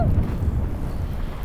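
Strong wind buffets the microphone on a disc golf course, a continuous loud low rumble with gusting texture and no break, with no talking.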